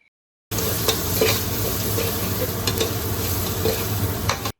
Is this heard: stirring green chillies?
yes